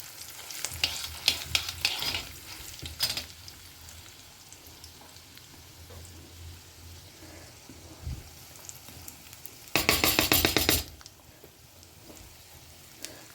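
Two mild dried red chillies crackle and spit in hot oil while tempering a methi puli keerai dish at home, with loud bursts of sizzling near the start and again near the end over a steady low frying hiss.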